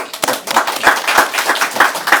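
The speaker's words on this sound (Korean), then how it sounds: "우리 직원들한테 박수 한번 보내주시죠." An audience claps for city staff at a Sejong city government press briefing, a brisk, fairly close burst of hand claps with uneven rhythm and individual slaps standing out.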